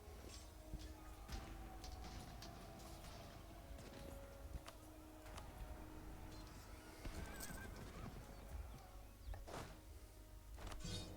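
A horse neighs in the Europa Universalis IV strategy game. A whinny comes through over a dense, steady bed of game sound and music, with scattered clicks and knocks around it.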